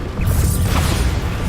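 A Bombarda spell impact in Hogwarts Legacy, a loud, dense blast with crashing debris that fills the whole clip after a brief quieter lead-in.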